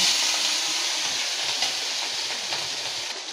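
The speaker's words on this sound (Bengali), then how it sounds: "এবার আমি মেখে রাখা মাছগুলো দিয়ে ভেজে নেব" Marinated cheoya fish fry in hot mustard oil in a kadai. A loud, continuous hissing sizzle fades slightly over a few seconds.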